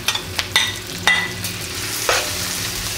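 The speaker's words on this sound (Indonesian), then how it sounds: "Nah, kita masukin nih daging-dagingnya." Beef pieces frying with onion in a hot pan for an Indonesian beef and green chili stir-fry give a steady close sizzle, broken by several sharp stirring scrapes and clacks; no one speaks.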